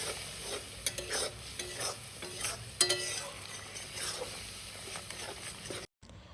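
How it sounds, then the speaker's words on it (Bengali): Spice paste thinned with a little water is stirred and fried for a snakehead fish curry: soft sizzling with scraping spoon strokes and one sharp clatter, ending abruptly. "জল দেওয়ার পর মশলাটাকে এবার ভালোভাবে আরও কিছুক্ষণ কষিয়ে নেব"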